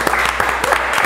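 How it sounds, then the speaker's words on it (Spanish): Short burst of audience applause for a guest on a rock radio program, steady clapping filling the moment at moderate loudness with no talk over it. "le damos un fuerte aplauso"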